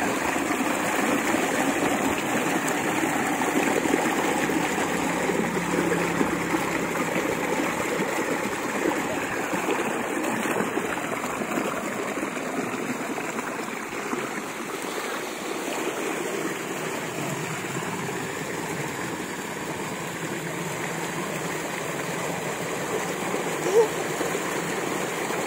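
Water from a farm well's motor pump pouring into a tank, a steady rushing, splashing flow that continues unbroken for the whole stretch, with some voices faintly in the background.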